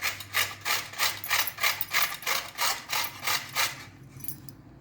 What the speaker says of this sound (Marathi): इथे आता सुरुवातीला हे गाजरं जे आहेत हे किसून घ्यायचे आहे आणि किसणी शक्यतो मोठ्या होलची वापरा